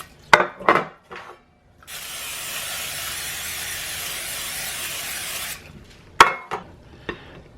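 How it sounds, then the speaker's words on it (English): A steady hiss of nonstick cooking spray lasting several seconds, coating metal baking pans, bracketed by clinks and taps of the pans before and after. "We're just going to spray these with some nonstick cooking spray."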